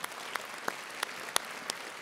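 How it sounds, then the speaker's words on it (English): Church congregation clapping for a speaker: a faint, thin wash of applause with a handful of sharp, distinct claps standing out at irregular intervals, quiet and somewhat distant. "Let's give him a round of applause."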